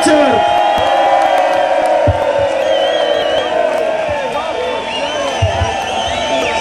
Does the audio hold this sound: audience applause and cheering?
yes